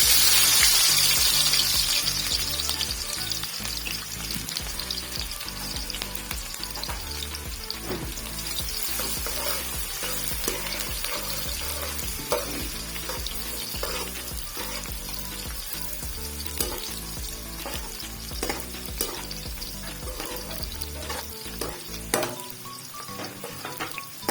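Onions for chicken biryani frying in hot oil, a dense, continuous loud sizzle with repeated stirring scrapes and clatters throughout, no talk, until it suddenly thins near the end.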